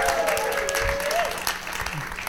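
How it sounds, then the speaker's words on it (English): A talk-show audience claps for a departing guest, a brief burst of applause that tapers off, with a voice faintly audible over it. "How about another warm round of applause for Joy T. Arcand, our previous guest?"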